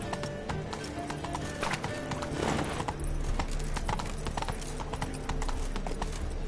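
Roach, a horse in a video game, clip-clops steadily along with rhythmic hoof falls under continuous ambient game sound, with a brief louder swell partway through.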